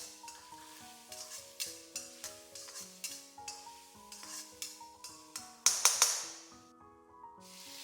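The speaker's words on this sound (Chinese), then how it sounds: "稍微翻炒幾下。" Minced garlic and dried chilies stir-frying in oil in a wok, with a steady sizzle under regular spatula scrapes. A few sharper metallic clanks come near the end before it fades.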